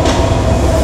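A Chattogram Express train stands at platform 7 of Dhaka's Kamalapur railway station, giving off a steady, loud low rumble and hum that holds evenly through the brief moment.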